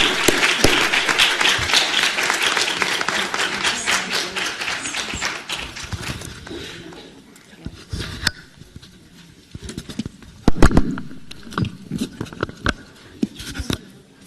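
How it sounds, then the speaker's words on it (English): Audience applause for a panel at an education event, a dense sustained clapping that fills the room for about six seconds, then fades into scattered claps and thinner bursts that keep flaring up near the end. "Let's just give it a first round of applause for our panel."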